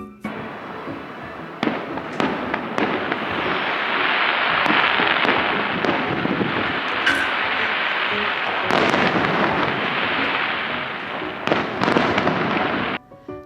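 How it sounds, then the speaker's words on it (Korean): Fireworks at Tokyo Disneyland boom and crackle at a distance, heard from a hotel room, sharp bangs over a continuous rumbling fizz of bursts that swells and then tapers off. "방에서 보이는 불꽃놀이가 정말 좋았습니다."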